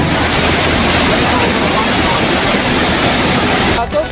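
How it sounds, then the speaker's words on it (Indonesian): Turbulent floodwater roars steadily as the overflowing Muaro Pisang river in Maninjau, Agam, churns through carrying mud, wood and rocks, a loud, dense, continuous rush filling the whole stretch with only a brief dip at the very end. "Sungai Muaro Pisang meluap membawa lumpur kayu dan bebatuan."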